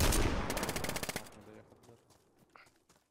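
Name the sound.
gunfire in video game DayZ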